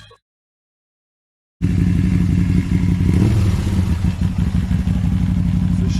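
A Can-Am Spyder with a Rotax engine idles close by after a brief silence, a loud, steady low gurgling rumble with a fast regular pulse and a small swell partway through.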